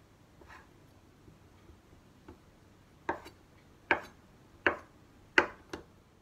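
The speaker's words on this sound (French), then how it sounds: "on coupe la fontina" Fontina cheese being cut with a knife on a board: a few faint taps at first, then four or five sharp, close chopping knocks at a slow, even rhythm, alone without talk.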